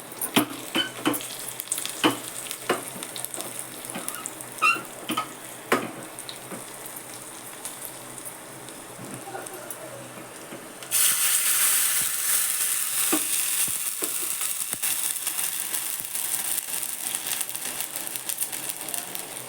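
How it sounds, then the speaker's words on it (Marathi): Soft frying crackle of cumin and mustard seed tempering with stirring clicks, then a sudden loud hissing surge as water hits the hot oil, sustained and close until the end. "पाणी टाकते मी त्यात आता"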